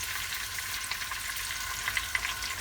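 A chicken thigh fries steadily in a pan, with a continuous dense sizzle and crackle close by and a few louder pops near the end, no voices over it.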